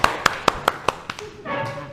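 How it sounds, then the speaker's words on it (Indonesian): A classroom round of applause for pupils who acted out an animal role-play: about six sharp, evenly spaced claps ring out close by, then a voice starts talking. "Tepuk tangan yang meriah."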